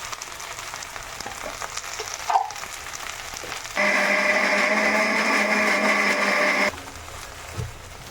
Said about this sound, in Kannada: ಅದಕ್ಕೆ ಇದನ್ನು ರುಬ್ಕೋತಾ ಇದ್ದೀನಿ.